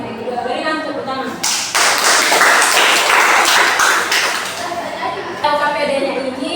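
A classroom of students claps during a microteaching mathematics lesson: a burst of applause of roughly four seconds, loud and close, with a teacher's voice talking before and after it.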